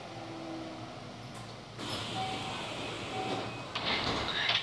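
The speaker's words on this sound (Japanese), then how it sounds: "The doors on the left side will open." Sliding doors of a local train bound for Miyazu open at a station stop, a broad hiss and rumble rising midway over steady carriage hum, with a second surge near the end.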